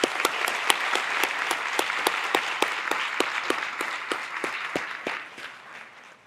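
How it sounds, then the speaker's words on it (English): Audience applause at a high school midyear graduation ceremony, a sustained burst of many hands clapping in a large hall that fades out toward the end. "Let's give him a round of applause."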